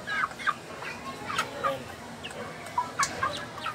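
Backyard chickens cluck in short, scattered bursts as they are fed, several birds calling close by in irregular clusters over a low ambient background.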